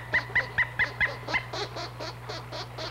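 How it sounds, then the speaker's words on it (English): A pileated woodpecker gives a raucous cry of about a dozen evenly spaced, loud, honking notes in quick succession, delivered with no talk over them. "until they are shattered by the raucous cry of the pileated woodpecker"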